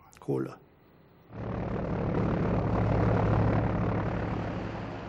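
After a short spoken phrase, the steady drone of propeller cargo planes from the Berlin Airlift rises and holds, a loud continuous engine roar that fades slightly toward the end.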